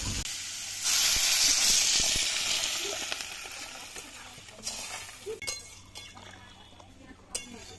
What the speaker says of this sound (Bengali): মশলার সাথে আলু আর বেগুন খুব ভালোভাবে কষে নিয়েছি এবার জল দিয়ে দেবো